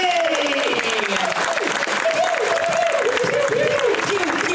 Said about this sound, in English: round of applause for Mark James, everybody!